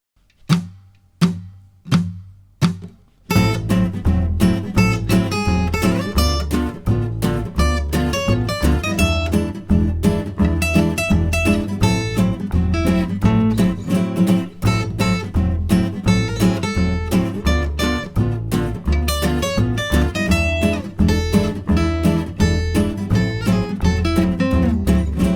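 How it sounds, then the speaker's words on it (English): Improvised electric guitar lines built around chord tones over a full backing track with drums and bass, after a few sparse count-in hits; busy, dense playing continues steadily without any talking. "make some musical statements by playing the notes around the chord notes"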